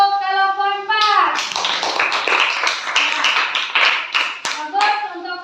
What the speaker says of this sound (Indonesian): Ya, baik, tepuk tangan dulu. Beri aplaus untuk kelompok 4.